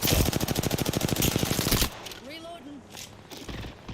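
Automatic weapon fire in the video game Apex Legends comes as a loud, rapid, evenly spaced burst lasting about two seconds. Quieter game sounds with faint sweeping tones follow.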